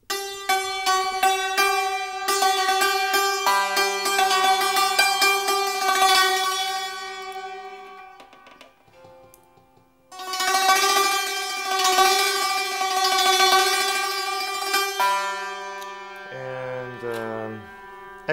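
A santur with its fa and mi bridges moved for microtones plays rapid hammered tremolo notes that ring brightly. After a brief lull the playing resumes and ends in a slower descending run, close and loud, with no talking.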